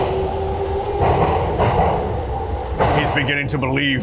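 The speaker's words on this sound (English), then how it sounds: "We're at a train station, I just bought milk." Busy train station ambience with a steady hum of machinery and crowd noise, under close conversation.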